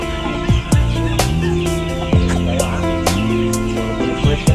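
Several non-native chickens cluck and squawk close by in quick, overlapping bursts, a busy flock chattering, at a garden venue in Mobo, Masbate, Philippines.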